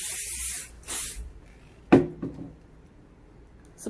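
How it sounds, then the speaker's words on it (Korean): Hair spray hisses onto hair in two short, close bursts, followed by a few soft knocks and handling noises in a quiet room. "다시 한 번 더 스프레이를 뿌리고"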